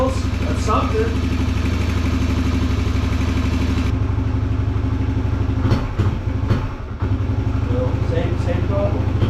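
A 2021 Suzuki DR-Z125 dirt bike, running on a swapped carburetor, idles steadily nearby with a continuous buzzing thrum, and brief voices come through partway.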